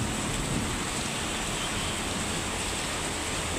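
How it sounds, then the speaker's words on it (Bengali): Heavy rain pours steadily, a dense, unbroken hiss of falling water that stays loud and even throughout. "কি বৃষ্টি পড়তেছে তারপরে স্কুলে যাবে"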